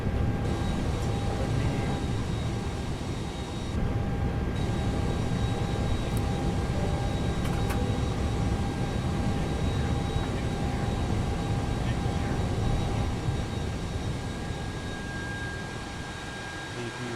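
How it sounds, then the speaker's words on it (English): An Airbus A320 auxiliary power unit runs in a flight simulator, a loud, steady whine and roar with a few fixed tonal lines, continuous throughout with no breaks. "for the APU, multiple location is going to be heard differently from back, from front, from inside too."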